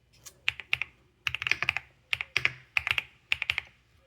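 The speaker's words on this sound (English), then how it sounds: "Here, let me actually type it." Quick, uneven bursts of keystrokes on a computer keyboard, clustered in short runs with brief pauses, close and fairly quiet.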